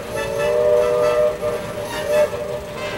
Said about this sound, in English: the shrill tweet-tweet sounds that the locomotive's whistles made